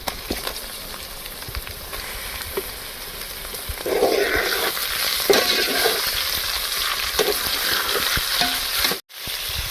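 Chicken pieces frying with browned onions in a pan for karela chicken make a steady hiss that grows louder partway through, with stirring scrapes and a brief drop-out near the end, and no one speaking.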